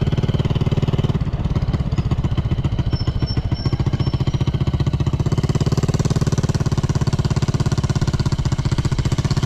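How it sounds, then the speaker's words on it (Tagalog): A motorcycle engine runs steadily and loudly up close, its rapid chugging pulse continuous throughout with no pauses. "ang ingay kasi ng motor na to eh"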